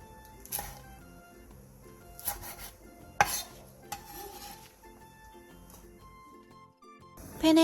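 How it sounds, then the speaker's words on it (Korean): Shishito peppers stir-fried over high heat in an oiled pan with a teaspoon of salt, with scattered utensil scrapes and clinks against the pan over a low sizzle and a louder burst at the end. "팬에 기름을 두른 뒤 꽈리고추와 소금 1티스푼을 넣고 센 불에서 1분 정도 가볍게 볶아주세요."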